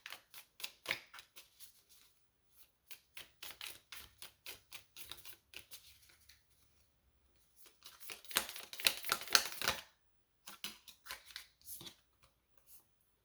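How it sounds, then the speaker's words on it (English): Tarot cards shuffled by hand in repeated bursts of crisp riffling and tapping, close and fairly quiet, with short pauses between rounds and a denser flurry near the middle. "We're gonna shuffle a little bit more"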